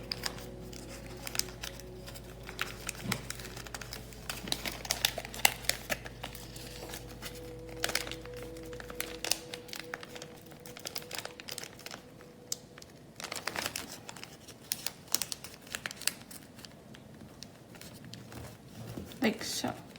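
Paper being creased and folded into an origami tank gives off close, intermittent crinkles and sharp crackles, with a low hum under the first half and speech weaving through.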